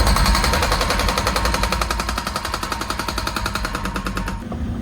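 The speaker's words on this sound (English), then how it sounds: "Jackhammering the concrete off the bottom of these posts as well, because it's too high" Jackhammer breaking concrete off the bottom of posts that sit too high, hammering in a steady rapid rhythm, loud and close, before cutting out just at the end.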